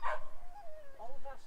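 Middleweight whippet bitches shut in the starting traps at a dog race give a string of high, excited whines and yips, close and fairly loud over a low background rumble.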